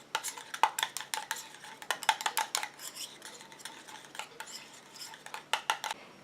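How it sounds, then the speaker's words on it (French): A utensil clinks and scrapes against a small bowl while homemade eye cream is mixed, a quick irregular run of light metallic taps and stirring strokes, close and fairly quiet with no talking. "Je mélange à nouveau."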